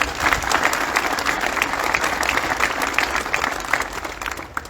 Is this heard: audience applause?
yes